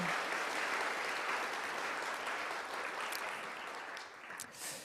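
Steady applause from a church congregation during a worship service fills the space, dense and continuous, slowly thinning toward the end.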